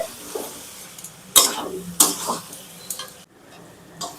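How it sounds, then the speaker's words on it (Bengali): Masala with Kashmiri chilli powder being sautéed in a pan for a chickpea curry, soft frying sizzle punctuated by several sharp spoon scrapes and clanks against the pan, close and uneven, with a brief silent gap. "এবার একটু ভালো করে কষাতে হবে।"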